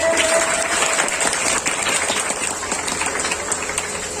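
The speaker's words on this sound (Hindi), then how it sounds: "ताली बजाइए" An audience at a Ramayana and Vedic research institute prize ceremony claps steadily for a winner, dense continuous applause filling the short stretch without speech.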